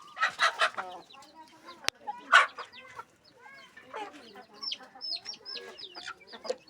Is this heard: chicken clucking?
yes